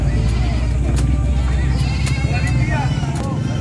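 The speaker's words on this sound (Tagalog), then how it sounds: "daming kambing ni Sir Rod ngayon" Goats bleat repeatedly, several near and loud, amid the constant crowd noise and chatter of the San Carlos livestock market, with a vehicle rumbling in the background.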